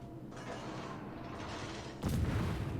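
Naval guns firing armor-piercing shells in World of Warships, a muffled rumbling barrage followed by a sudden louder, sharper boom near the end.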